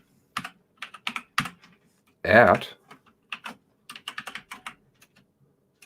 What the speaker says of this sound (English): on my loud keyboard